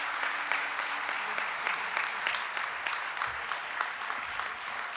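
An audience at the inauguration of the Yuvam 2023 event at the Institute of Chemical Technology, Mumbai, claps in a steady, dense burst of applause lasting several seconds, moderately loud and uninterrupted.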